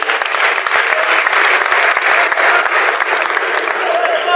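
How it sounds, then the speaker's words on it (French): An audience applauds at an event attended by the prime minister, a dense, sustained burst of many clapping hands close by that holds steady and thins slightly toward the end. "Messieurs et dames, est-ce qu'on peut applaudir pour l'IGF?"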